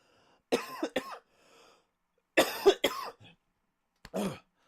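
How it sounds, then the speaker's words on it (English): Three separate bursts of harsh coughing, close to the microphone, with short silences between them. "Apologies for the cough there."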